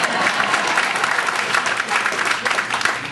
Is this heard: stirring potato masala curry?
no